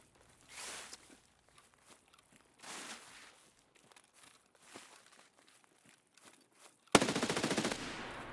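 Gunfire in the shooter game Escape From Tarkov: a sudden loud automatic burst near the end, preceded by soft footsteps and rustling movement.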